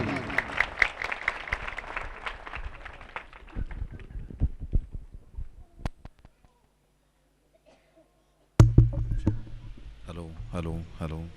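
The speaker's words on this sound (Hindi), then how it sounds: "आपकी भरपूर तालियों में" A congregation at a 2008 gospel gathering in Kot Jafar claps to welcome a preacher to the stage. Scattered claps mix with voices, break off into a brief silence, then a nearby voice speaks over a microphone.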